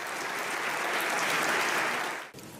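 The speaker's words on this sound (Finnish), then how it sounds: "Yleisö taputti seisaltaan, kun menehtyneen oppositiopoliitikon vaimo astui yllättäen lavalle." A standing audience at an event with a Russian opposition figure's widow on stage applauds in a dense, sustained wash of clapping that cuts off abruptly near the end.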